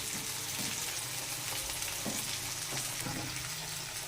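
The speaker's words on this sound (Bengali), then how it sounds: "এবার আদা রসুন বাটা দিয়ে দেবো। দিয়ে দেবো লঙ্কা কুচিগুলো।" Ginger garlic paste and chopped chillies fry in hot oil with a steady, bright sizzle and a few soft stirring scrapes, faint but close, with no voices.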